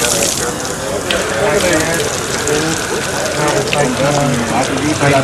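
Water gushing steadily from an IPC Eagle screen washer, a loud continuous spray and splash with people talking faintly underneath.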